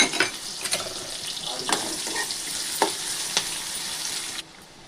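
Close, steady sizzling as onions, urad dal and chana dal fry in oil in a pan, broken by several sharp stirring clinks of a utensil against the pan before it drops off near the end.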